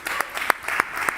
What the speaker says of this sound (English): I just want to clap it up.